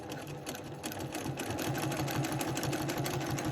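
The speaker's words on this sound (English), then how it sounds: "I'm just going to continue on stitching nice and slowly" A sewing machine runs steadily throughout, stitching a free-motion quilt block with a ruler, its needle keeping a fast, even mechanical whir close by with no talk.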